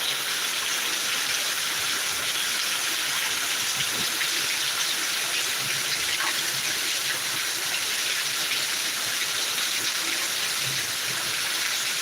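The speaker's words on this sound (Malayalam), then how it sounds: "അടിപൊളി മഴ കേട്ടോ അടിപൊളി മഴ" Heavy summer rain pours down steadily in Kerala, a dense, continuous hiss of drops on surfaces with wind, loud and unbroken from start to finish with no talk.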